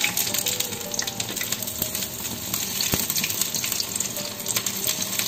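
Rice and urad dal vada sizzling in hot oil, a dense continuous crackle and bubbling with occasional sharper pops, close and steady throughout with no talking.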